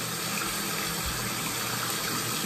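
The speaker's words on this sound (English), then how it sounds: "so I'm gonna rinse my face and get all the cleanser off." Steady rush of water running from a tap while a face is rinsed, loud and continuous with a gushing texture and no voices.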